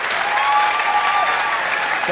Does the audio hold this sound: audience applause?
yes